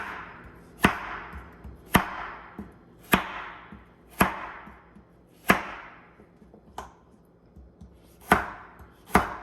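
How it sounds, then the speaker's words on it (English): Sharp knife chops on a cutting board, about nine evenly spaced crisp strikes heard up close with no talk, while carrot is cut for Jamaican-style steamed fish. "And then slice it to the side like this."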